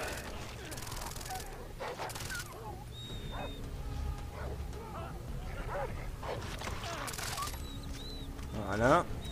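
A guard dog barks in Far Cry 3, a few sharp yelps and barks spread through the scene amid game ambience and other in-game noises, with a louder burst near the end.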